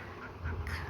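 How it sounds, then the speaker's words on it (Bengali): Domestic ducks quack while feeding, a short burst of close, rough calls over a low background rumble with no talking. "দেখেন আমার দেশি হাঁস এখন খাবার খাবে।"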